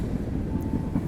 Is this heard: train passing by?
yes